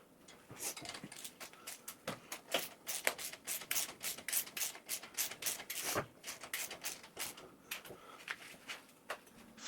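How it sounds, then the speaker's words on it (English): Aluminum paste being worked onto the threads of a reaction rod bolt on a Moto Guzzi Griso rear end: quiet, close rubbing and smearing strokes in an irregular rhythm, faint throughout. "I mount the rod and apply a generous amount of aluminum paste to the threads"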